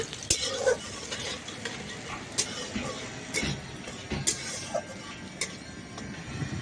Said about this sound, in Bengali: একটা কাঁচা লঙ্কাকে আমি এইভাবে কুচি কুচি করে রেখেছিলাম এটাও দিয়ে দিলাম দিয়ে এটাকে হালকা ভাজা করে নেব